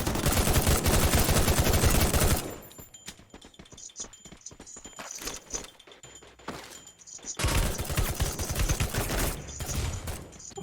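Heavy bursts of automatic gunfire from the Free Fire battle royale game fill the opening seconds, thin into scattered, quieter shots and thuds, then return as a loud, dense volley near the end.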